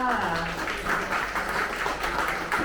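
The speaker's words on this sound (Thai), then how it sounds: "ขอเสียงปรบมือให้กับคุณชีค่ะ" Applause from the crowd at a Thai bicycle brand launch event, a moderate spread of clapping hands that holds steady, fairly soft and slightly distant.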